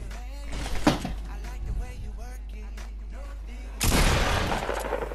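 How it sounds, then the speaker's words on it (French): Pump shotgun fire in a battle royale video game, a single loud blast near the start and another heavy burst about four seconds in, amid game sounds with a voice talking over it. "Hop, le premier, une balle de pompe."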